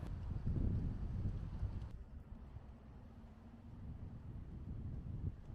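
Steady wind roars across a beach in Nerja, Spain, as a constant low rumble buffeting the microphone, with a brief drop partway through and no voices.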